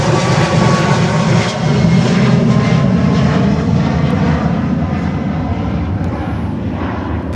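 A large jet airliner powers up loudly during a go-around over the runway at Miami, a sustained roaring engine rumble close by that fades slightly toward the end.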